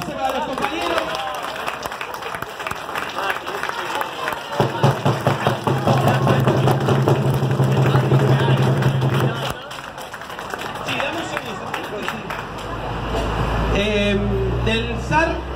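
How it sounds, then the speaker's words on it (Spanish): Applause at a union assembly of air traffic workers, a steady clatter of clapping running under someone speaking over a microphone and other voices in the room, with a low droning hum for part of the stretch. "Mati, un aplauso para los compañeros."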